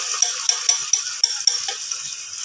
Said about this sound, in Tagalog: Lagay na natin yung sardinas. Gisa natin maigi muna yung sardinas.